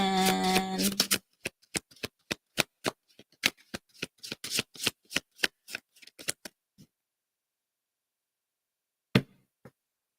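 Oracle cards shuffled by hand at close range: a rapid series of crisp riffling snaps and slaps in an irregular rhythm, fading out, then one last snap after a pause, with no talking.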